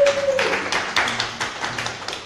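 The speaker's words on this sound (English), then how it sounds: "she's here, so clap for her" Scattered audience clapping for a performer at a small live music night, a few distinct claps near and fairly loud, thinning out over two seconds.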